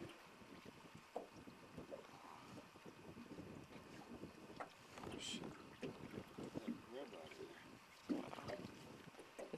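Strong wind gusts over a lake during a sunset walleye fishing trip from a boat, rumbling against the microphone in uneven surges, with faint water and boat sounds and brief voices in the background.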